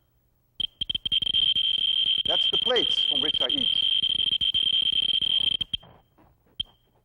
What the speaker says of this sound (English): This is a Geiger tube. This can measure the gamma rays that the uranium emits. You hear a little beep.